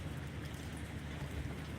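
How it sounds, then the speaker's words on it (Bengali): Heavy rain pours down steadily in the hills of Assam, a dense, constant hiss and patter of drops, loud and unbroken throughout. "তার সঙ্গে শুরু হয়েছে গড়ি গড়ে বৃষ্টি"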